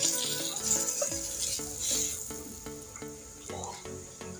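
Garlic sizzling as it fries in a pan for a fish bhorta, a soft steady crackle with a few stirring clinks, heard close and fairly quiet.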